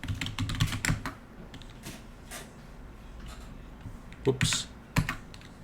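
A new password is typed on a computer keyboard in light, irregular bursts of key clicks, close and fairly quiet, with a few louder taps and a brief spoken word.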